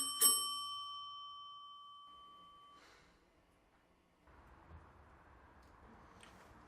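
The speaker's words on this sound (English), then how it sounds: "Suddenly, the doorbell rings." A doorbell sounds once with a bright, ringing chime that slowly fades over a couple of seconds, leaving a quiet room with faint low background noise.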